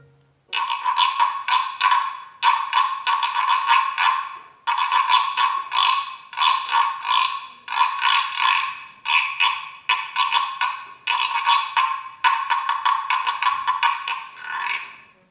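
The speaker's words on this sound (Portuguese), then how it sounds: "Aqui eu tenho o reco-reco. Esse reco-reco é de bambu" A bamboo reco-reco, the notched scraper played in capoeira, rasps in steady repeated strokes, each scrape a bright buzzing burst close to the listener, played alone in a continuous rhythmic pattern.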